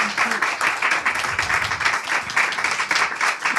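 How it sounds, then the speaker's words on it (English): An audience at a spiritual talk applauds in a steady, dense patter of many hands clapping throughout, moderately loud and fairly close. "In ISV, the claps are always longer."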